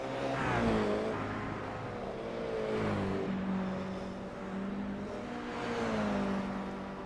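Toyota GR86 cup race cars in iRacing on the Chicago street circuit rise and fall in pitch as they pass, with several engine swells over a steady drone, fairly close and alone without speech.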